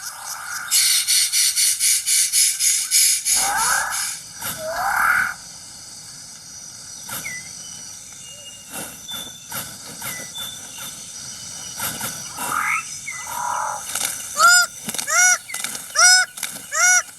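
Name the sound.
birds of paradise calling in New Guinea forest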